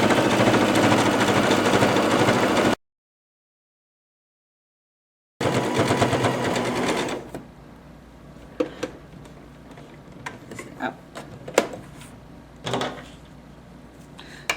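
A Babylock Jazz sewing machine runs a fast, loud, steady overcast stitch along fabric edges, stops briefly, resumes, then falls quiet except for scattered soft clicks and handling knocks.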